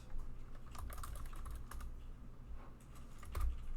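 A computer keyboard is tapped in short irregular bursts while coding a class, faint and close over a low steady hum, with no voices.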